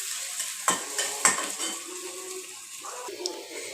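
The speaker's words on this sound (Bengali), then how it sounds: "এই যে আমার এই খাবারটার মধ্যে মাছের মাথা, মুগ ডাল, তার মধ্যে আমি এই বাগারটা দিয়ে দিই।" Hot mustard and soybean oil tempering is poured into a fish-head moong dal, giving a few sharp splashes and sizzling bursts with spoon clatter against the pot, then a quieter simmering hiss.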